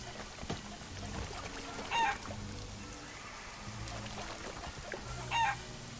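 A chicken or rooster in the video game Conan Exiles gives two short clucking calls a few seconds apart, moderately loud over a busy, noisy game ambience.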